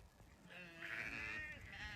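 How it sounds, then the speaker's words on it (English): Sheep bleating near a farm barn, a few overlapping wavering calls close by, moderately loud over soft outdoor background. "Here's more sheep, by the way, by the barn."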